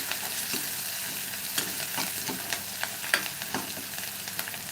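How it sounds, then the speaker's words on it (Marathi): Chopped onion sautés in a pan with a close, steady crackling sizzle. Light scraping and clicking from stirring come through at irregular moments, and no one speaks. "कांदा ते चांगला आपल्याला परतून घ्यायचा आहे"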